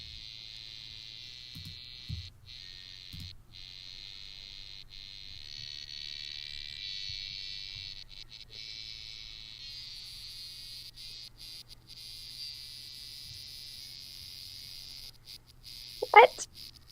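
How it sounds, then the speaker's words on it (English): A cicada's steady, high-pitched drone hums continuously, played as Taco Bell's Canon, with a few soft low thumps and a brief sharp sound near the end. "This is Taco Bell's Cannon, played by a cicada."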